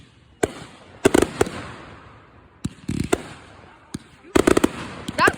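Fourth of July backyard fireworks burst in loud, sharp cracks and booms, some in quick crackling clusters, separated by quieter gaps, close to the listener.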